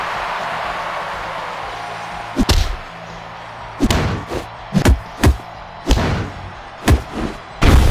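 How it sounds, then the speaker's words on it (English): An inverted exploder suplex slam in the WWE Mayhem wrestling video game, heard as a series of heavy, punchy thuds and impacts spaced irregularly over a steady background hum. "Inverted exploder suplex!"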